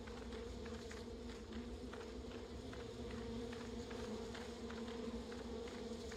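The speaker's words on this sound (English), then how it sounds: "I gotta let these bees pass by." Bees buzz steadily in the video game Barnyard, a constant droning hum from a swarm passing close by, heard alone at low volume with faint ticking game sounds.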